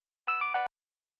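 A mobile phone ringtone plays for an incoming call in a drama scene, a short bright melodic burst of three quick tonal notes lasting under half a second, clear and alone.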